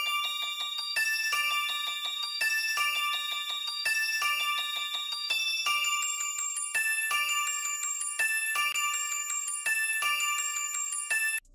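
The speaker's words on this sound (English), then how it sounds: "So the next part is these bells" Bright, ringing bell tones play a simple repeating melody for a dark hip-hop loop, clean and dry with no effects, each strike decaying quickly in a steady rhythm.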